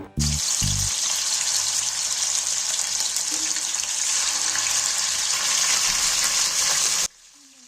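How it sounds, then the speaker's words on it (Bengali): Pieces of katla fish frying in hot oil in a wok, a loud, continuous sizzle and crackle that holds steady for about seven seconds before stopping abruptly, close up, with a few knocks at the start. "তেলটা গরম হয়ে আসলে মাছগুলো এর মধ্যে দিয়ে একে একে ভেজে নেব"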